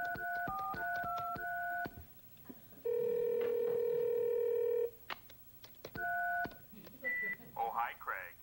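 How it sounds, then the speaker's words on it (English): A telephone keypad dials to check voicemail messages: a quick run of DTMF tones, a long steady tone, then more dialing beeps and a short rising electronic chirp, with a brief voice heard between the tones. "I just need to check my phone messages."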